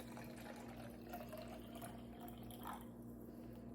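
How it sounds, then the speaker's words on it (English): Water runs into a plastic soap bottle being filled halfway for homemade foaming hand soap with essential oils, a faint, steady trickle and gurgle heard alone. "So I'm going to fill it about half of the way up with water."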